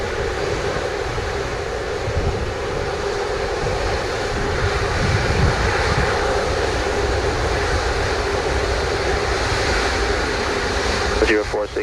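Boeing 737 jet arriving at Montego Bay airport, a continuous loud engine roar and rushing air held steady throughout, with radio chatter from air traffic control over it.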